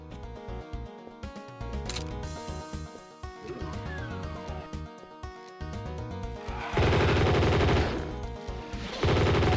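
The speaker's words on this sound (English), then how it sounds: "It was only ever burst fire?" Burst-fire M16 rifle shots in a Doom mod video game, rapid clusters of sharp cracks with gaps between them, louder bursts toward the end.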